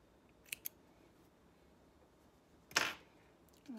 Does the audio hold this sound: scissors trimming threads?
yes